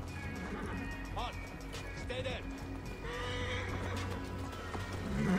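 A horse in the video game Assassin's Creed Origins whinnies in short rising neighs amid clip-clopping hooves and game ambience, fairly quiet, with a voice talking over it.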